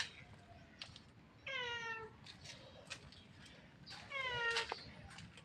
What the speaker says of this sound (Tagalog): Nakakatuwa naman itong pusa, oh.